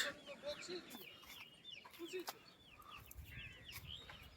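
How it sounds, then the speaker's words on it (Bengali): Clucking hens mixed with high peeping chicks kept under a dry fish market stall, moderately faint, over a noisy background with some indistinct voices. "ও মাসি তোমার নিচে কি মুরগির আড়ত ওরে বাবা মুরগি ছানা"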